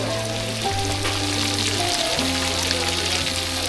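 Shrimp and crab fry at a Kuakata beach food stall in a steady, loud sizzle. A few low tonal hums shift underneath, and no one talks.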